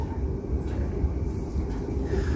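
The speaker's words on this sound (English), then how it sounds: "There's some more trains out the window." Adelaide Metro trains rumble steadily past outside a moving train window, a continuous low rolling roar with no talk.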